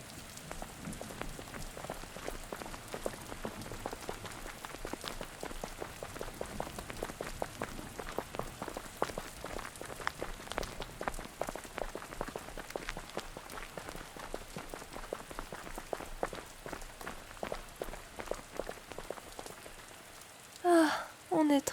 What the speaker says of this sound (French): Ah, il pleut. Et pas qu'un peu.